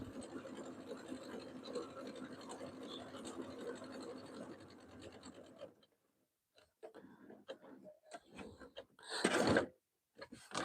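A sewing machine stitching along a pillow edge, whirring steadily for several seconds, then stopping and restarting in a few short, uneven bursts of stitches.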